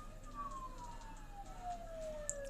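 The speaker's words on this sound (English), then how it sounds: "Don't those sirens sound really close?" Police sirens in the video game Persona 4 Golden wail faintly in the background, a single slowly falling tone over a low hum, with no talk during it.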